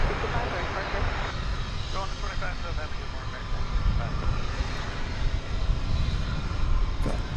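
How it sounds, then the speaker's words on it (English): Airplane passing over DFW Airport, a broad, steady engine roar that stays loud and near throughout, with a person talking over it. "See a plane there going over"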